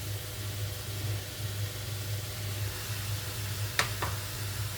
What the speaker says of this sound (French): On laisse bien dorer la viande.